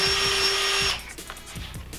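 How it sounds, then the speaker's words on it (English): A power drill whines steadily for about a second boring through bodyboard foam, then stops, leaving soft scraping and handling noises. "you're going to drill straight through, all the way through"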